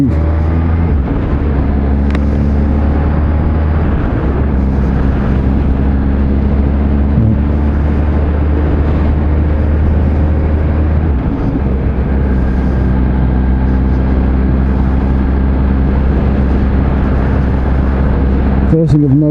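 A 200-horsepower 2020 Kawasaki Z H2 hyper-naked motorcycle engine drones steadily while riding, a loud continuous hum with wind noise, and the rider talks over it throughout.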